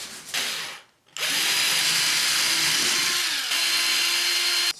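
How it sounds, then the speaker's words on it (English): A power drill bores holes into a wooden longboard deck, a loud, steady whine running nearly continuously after a brief pause near the start, with a slight pitch dip midway. "Now let's drill these holes."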